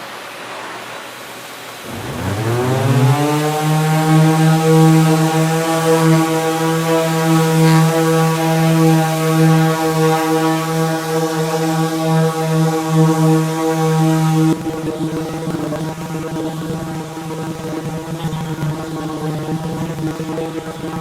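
A loud, steady mechanical whine with a strong hum as electric sanders start up after a quiet moment and keep running at maximum speed, with a slight shift near the end.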